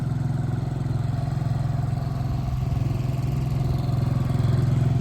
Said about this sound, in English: 4-stroke motor